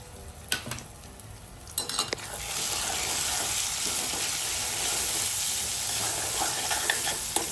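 Chili powder, salt and turmeric stirred into a hot pan for dal tadka: a few spoon clinks and scrapes, then a loud, steady sizzle rising and holding close by.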